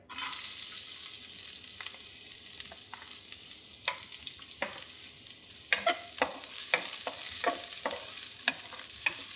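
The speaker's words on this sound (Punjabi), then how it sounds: "ਥੋੜੇ ਜਿਹੇ ਆਪਾਂ ਲਸਣ ਨੂੰ ਬ੍ਰਾਊਨ ਕਰਕੇ" Finely chopped garlic browning in a spoonful of desi ghee in a heated pan for broccoli almond soup, a steady close sizzle broken by scattered stirring clicks and scrapes throughout.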